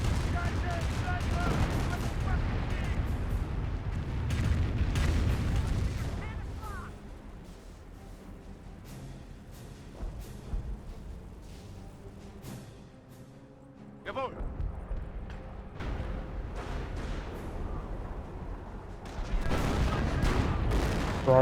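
Artillery barrage from the Company of Heroes 1 real-time strategy game: repeated heavy booms and bursts of gunfire rolling through much of the stretch, with a commentator talking over the battle throughout.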